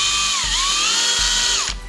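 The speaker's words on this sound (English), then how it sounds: "So start with a really small bit to drill the pilot" A small drill bit bores a pilot hole for a pit bike suspension spring upgrade on a CRF70/CRF50, the power drill whining steadily and loudly, its pitch dipping briefly under load before cutting off near the end.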